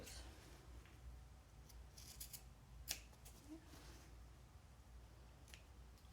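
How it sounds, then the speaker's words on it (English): Scissors snipping into the fabric seam allowance of a sewn bag, a few faint, close crisp cuts and rustles against a quiet background, with no talk. "I'm gonna cut towards the opening in the seam allowance and not cut through the stitches"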